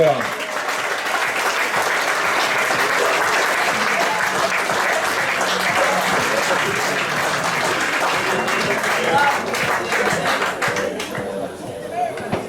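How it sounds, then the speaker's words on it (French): Spectators at a season presentation applaud the ESBF women's professional handball team of the Ligue Butagaz Energie, with long, thick, steady clapping and voices mixed in, fading near the end. "Applaudissements, s'il vous plaît, pour l'équipe professionnelle de l'ESBF"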